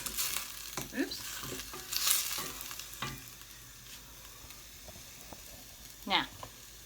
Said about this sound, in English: give that a bit of a stir up